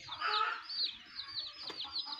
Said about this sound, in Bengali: এই যেটা হইতেছে টার্কির বাচ্চা, দেখেন।